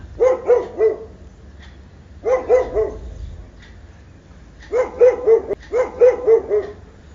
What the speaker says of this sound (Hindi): कुत्ते भौंकना शुरू कर देते हैं।